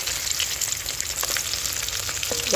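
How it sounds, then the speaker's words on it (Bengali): Rohu fish sizzling in hot oil in a wok, a dense steady hiss with scattered crackles, close and continuous, no voices. "মাছ ভাজা হয়ে গেছে, কি সুন্দর বাদামি কালার"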